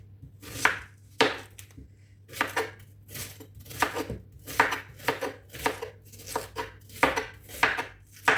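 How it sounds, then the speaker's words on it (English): Onions sliced with a knife on a board, a run of sharp, close chopping knocks in an uneven rhythm, a dozen or more crisp cuts with short pauses between. "So let's slice the onions"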